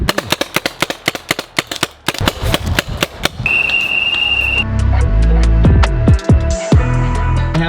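Paintball guns fire during an outdoor paintball game, rapid sharp pops in quick bursts, then a brief steady whine and a rumbling wash of noise with a few more scattered shots.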